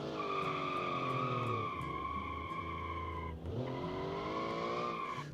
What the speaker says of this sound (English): Let's try a little bit of drifting now. Had to actually force a bit of oversteer just then.